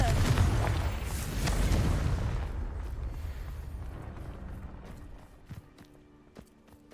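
A Confringo blasting spell going off in Hogwarts Legacy, a loud, broad explosive roar that fades slowly over several seconds into quieter rumble and a few faint clicks.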